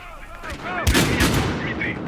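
Gunfire in the Battlefield Hardline multiplayer video game, a cluster of sharp loud shots bursting near the middle amid ongoing battle noise, with faint voices underneath.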